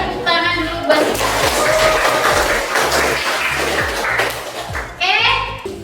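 Children in a classroom clap their hands for a few seconds in a loud, scattered burst of applause, with kids' voices chattering before and after.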